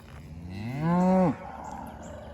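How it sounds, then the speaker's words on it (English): A single cow on a farm gives one long, rising and falling moo close by, ending abruptly, with quiet surroundings afterward. "I just love cattle"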